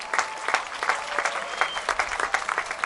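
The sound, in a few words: audience applause at a festival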